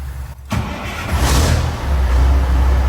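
Classic Peterbilt truck engine cranks briefly, then catches at about half a second and settles into a loud, steady, deep diesel rumble close by.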